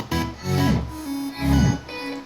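A mono synth plays a short melodic fill in a future house track, with long reverb tails, notes swelling and washing into each other.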